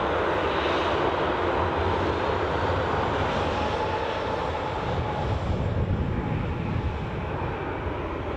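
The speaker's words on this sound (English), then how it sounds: "Jet2 departure in its Jet2 holidays livery on way to Lanzarote" A Jet2 airliner in Jet2 Holidays livery departs Newcastle airport for Lanzarote, its engines a loud, steady broadband roar that fills the whole stretch without letup.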